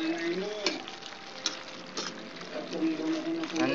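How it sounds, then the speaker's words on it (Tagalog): Creamy adobo sizzles in a pan as it is stirred, with a steady frying hiss and occasional scraping clinks, under a person talking. "haluin ulit"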